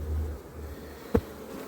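Honey bees on a brood frame during a hive inspection: a low steady buzzing that swells briefly at the start and then holds faint and constant, with one short knock partway through and no talk.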